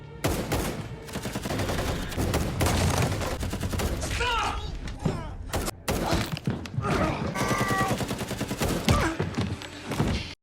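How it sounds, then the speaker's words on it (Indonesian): Dense gunfire from a film shootout between gangsters, loud and continuous with bursts of shots, thuds and shattering under a constant music bed, with voices briefly shouting in the middle. "Gara-gara baku tembak tadi, banyak anak buah Carlos yang tumbang dengan mengenaskan."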